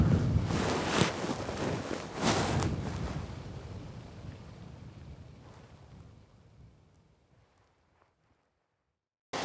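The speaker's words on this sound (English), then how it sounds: "Still a little bit windy, but nothing like yesterday." Gusty wind buffets the microphone in rumbling bursts from a tree stand in Kansas, gradually dying away, leaving near silence at the end; no one speaks.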